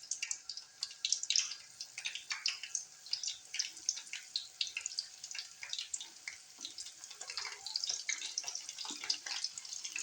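Cauliflower florets in very hot oil give a faint, constant crackling sizzle with dense popping and spitting that carries on steadily, without talk.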